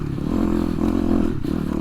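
An 18-year-old Yamaha trail dirt bike engine running steadily at idle, a loud, close, continuous low mechanical drone with a slight rough pulse and no voices.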